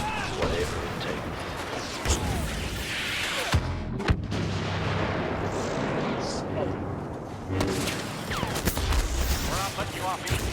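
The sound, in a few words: thrown grenade exploding in video game Star Wars Battlefront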